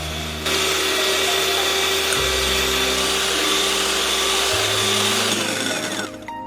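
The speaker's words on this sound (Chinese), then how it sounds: "用打蛋器无糖打发。" An electric whisk whips two egg whites with a couple of drops of white vinegar and no sugar. It gives a steady, close motor whir for about six seconds, and its pitch shifts down twice as the speed changes.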